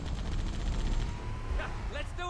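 Rapid gunfire from the video game Halo CE rattles in a dense, steady stream for most of the clip, with a voice speaking over it toward the end.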